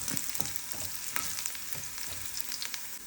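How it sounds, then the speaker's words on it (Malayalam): Sliced onions fry for a Kerala lentil curry (parippu), stirred so they brown lightly without burning. A soft, steady sizzle runs under rhythmic stirring scrapes, fairly quiet and close. "ഇത് മൂത്ത് നമുക്ക് ഇളക്കി കരിഞ്ഞു പോകാതെ നോക്കി ഇളക്കി"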